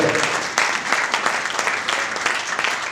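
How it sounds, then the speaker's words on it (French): Church congregation applauding together, dense sustained clapping close and loud, rising in bursts over the whole span. "we clap for the King of Kings"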